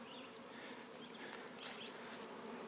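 Swarm of honey bees buzzing during a swarm catch in Dallas, Pennsylvania: a faint, continuous hum of many wings with brief louder passes of individual bees, no voices.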